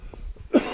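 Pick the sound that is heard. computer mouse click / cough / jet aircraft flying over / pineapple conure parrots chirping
cough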